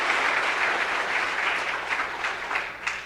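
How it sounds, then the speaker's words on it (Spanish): A crowd applauds warmly, sustained clapping at an even level that tapers slightly toward the end. "Dale un fuerte aplauso a la palabra de nuestro Señor y Salvador Jesucristo"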